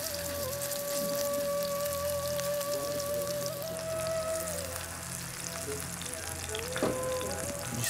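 Shami kebabs fry slowly in a pan, giving a steady, soft continuous sizzle and crackle throughout, with faint background hum and no talk.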